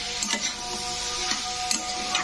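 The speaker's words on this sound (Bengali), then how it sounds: "তো হলুদ গুঁড়োটা দিয়ে আমি একটু নাড়াচাড়া করে নেব" A spoon stirs turmeric powder into chow chow curry in a hot pan, giving a steady sizzle with soft scraping ticks at irregular intervals, close and continuous.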